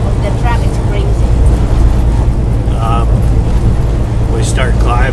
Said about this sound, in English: It's the wind is blowing and then the back of the truck is crazy.